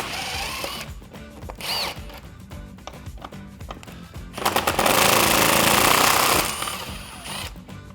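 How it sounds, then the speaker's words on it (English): An impact wrench with a 10mm socket removes bolts from a Jeep Wrangler JL, with short rattling bursts followed by a longer loud hammering run, close up with no talk. "So I'm going to take a 10mm socket and my impact wrench and remove those."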